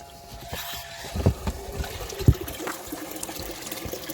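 Bilge pump pushing hot water down onto a frozen underground water line, a steady trickling, splashing flow with a few louder gurgling splashes, close by.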